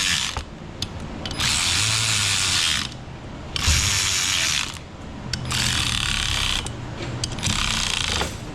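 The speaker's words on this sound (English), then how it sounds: "I'm just gonna bolt this guy down right quick" Ratchet wrench cranking bolts down on the fuel level sending unit plate of a Hummer H1 with a 6.5 Detroit diesel, loud rapid clicking bursts in four runs with short pauses between, close up and with no talking.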